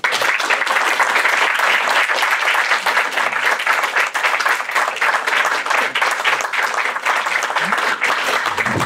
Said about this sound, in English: So if you'd like to do a big round of applause for our speakers.